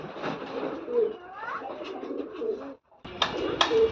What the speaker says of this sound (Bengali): এটা মাদি কবুতর।